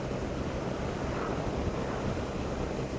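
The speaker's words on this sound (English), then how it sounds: "Very windy today" Steady, heavy wind buffeting the microphone while riding a BMW R1200 GSA motorcycle, a constant low rumbling roar with no letup for the whole stretch.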